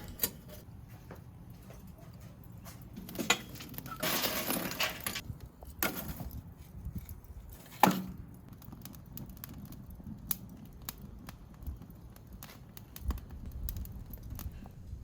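Lump charcoal is poured into a smoker to start the fire: a few clattering, rattling bursts of hard chunks, loudest midway, over a quiet background with small scattered knocks.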